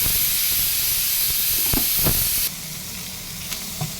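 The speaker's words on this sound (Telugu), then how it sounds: "చూడండి, బ్రెయిన్ వేసేసాను ఇందులో." Goat brain seasoned with a little turmeric frying in a pan, a steady close sizzle and hiss with a few stirring scrapes, dropping slightly quieter partway through.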